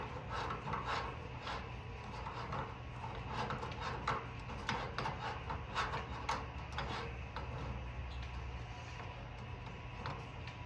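Parts of an Expert Grill being screwed together by hand, with soft repetitive ticking, rubbing and ratcheting scrapes close up and no talk.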